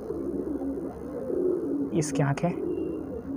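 Golden male pigeon giving a short, close coo of a few soft notes, framed by someone talking nearby.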